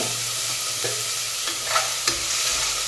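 Green peas for tomato bath frying in a pan, a steady soft sizzle with a few light stirring scrapes and taps, close and alone without talk.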